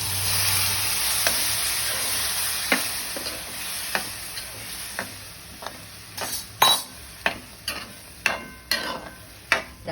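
Cooked chickpeas sizzle in a hot pan while being fried and stirred, with a steady frying hiss and a run of sharp scraping clinks of the spoon against the pan.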